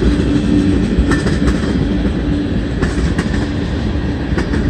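A heavy freight train led by BNSF locomotives, with coal hoppers, rumbles past close by with a steady low roar and occasional rhythmic clicks of wheels on rail joints.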